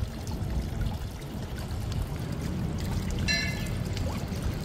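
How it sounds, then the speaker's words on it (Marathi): Sweet spring water trickling from a stone cow-mouth spout at a Ganapati temple by the sea in Konkan, a soft continuous pouring babble with faint outdoor ambience and a brief bird-like chirp. "या गोमुखातनं तो झरा पाझरतोय"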